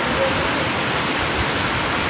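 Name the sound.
rain falling during Diwali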